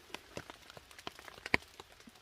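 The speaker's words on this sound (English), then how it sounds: "Started raining about 5:20 this morning. Tarp's done a great job." Scattered raindrops tap irregularly on a taut tarp overhead at an Appalachian Trail campsite, soft patters with an occasional sharper drip.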